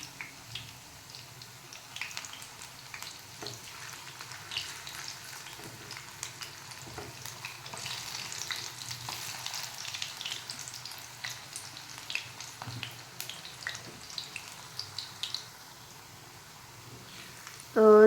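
Samosa kachori fry steadily in oil over medium heat, a soft continuous sizzle and bubbling with occasional stirring clinks, close but fairly quiet.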